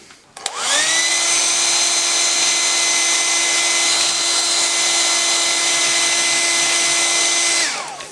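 A hair dryer or heat gun switches on and runs steadily at close range for about seven seconds, drying glazing paint on a painting, then cuts off; no talking.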